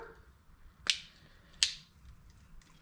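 Pliers snap plastic mounting tabs off a front speaker bracket in a Honda Civic, two sharp cracks spaced under a second apart, close and clear with no talk.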